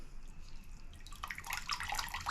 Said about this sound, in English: See it draining out?